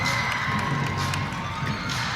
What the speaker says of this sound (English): Performing in front of a very appreciative crowd here in Carolina.